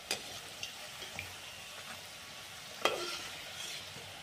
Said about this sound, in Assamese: এতিয়া তেলত দি আছোঁ চন্দ্ৰপুৰী।